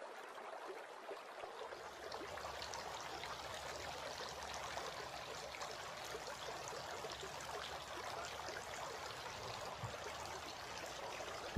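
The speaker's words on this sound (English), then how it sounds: "Washing the beard." Running water streams and splashes steadily at low volume while a man washes his beard during ablution, with no speech.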